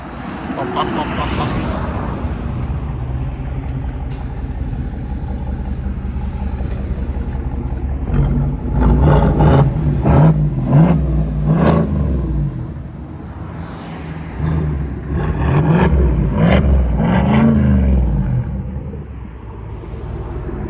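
A 2023 Cadillac Escalade 600 engine with a custom Corsa Xtreme exhaust, heard up close as a steady, deep rumbling idle that swells in a couple of louder revving surges midway and near the end.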